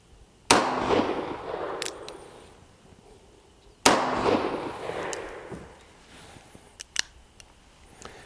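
An Uberti 1862 .36 caliber Police cap-and-ball revolver fires two loud, sharp shots about three seconds apart, each with a decaying echo, then a few faint mechanical clicks follow.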